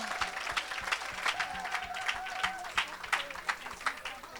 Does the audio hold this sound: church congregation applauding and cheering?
yes